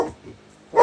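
A dog indoors giving two short, close barks separated by a brief pause, loud and sharp against a quiet room.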